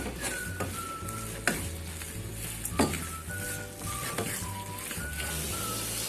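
Chicken cooking in a pan for chicken cheese patties, a soft steady sizzle with occasional utensil clinks against the pan under a faint tonal background.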